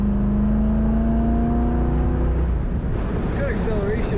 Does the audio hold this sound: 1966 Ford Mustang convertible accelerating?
yes